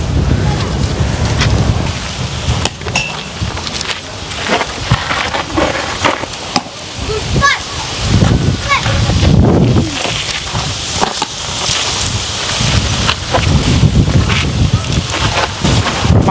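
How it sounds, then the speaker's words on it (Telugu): Strong wind gusting through a village during a storm with a power cut, a steady broadband roar with buffeting against the microphone, tin roof sheets rattling, while someone talks over it. "ఫుల్ గాలి వీస్తుంది"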